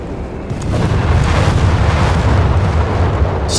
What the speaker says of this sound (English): calling it a bombing run here just to make sure this thing stays gone